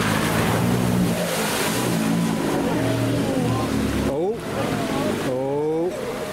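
A Mitsubishi car speeds through deep ford water at Rufford Ford, its engine revving with shifting pitch over a heavy wash of splashing water, while people talk over it.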